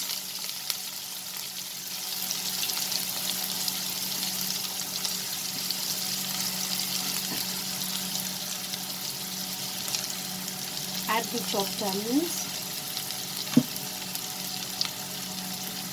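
Steady hiss of chopped onions sauteing with mustard seeds in hot oil over a high flame, a continuous even sizzle with a few faint clinks, close and moderate in level.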